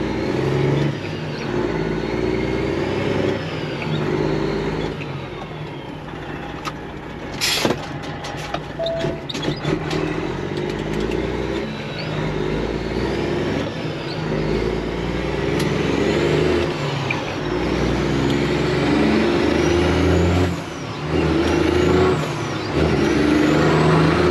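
A truck rolls down the road with a steady, loud engine and tire drone throughout, with a sharp hiss of air brakes and a few rattles partway through and brief shifts in engine pitch.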